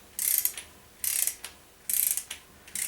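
A torque wrench ratchets while tightening engine cam gear bolts, with four sharp bursts of rapid metallic clicking at an even pace, close and crisp against a quiet background.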